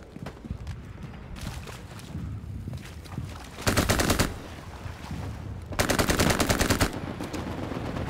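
Bursts of machine-gun fire from a World War II shooter game set at Driel, coming in two dense rapid volleys amid scattered shots and background battle noise, no speech.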